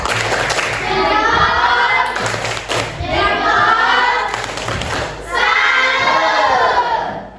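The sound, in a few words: class doing a rhythmic salute clap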